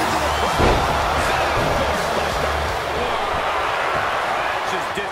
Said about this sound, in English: Man, just listen to the crowd.